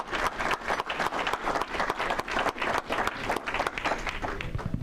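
An audience at a Rotary meeting applauds student presenters with a full round of rapid, overlapping clapping that continues steadily at moderate volume throughout.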